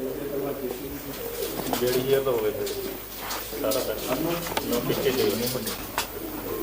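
Good-bloodline racing pigeons coo steadily at a pigeon loft, low rolling calls under continuous nearby conversation between men.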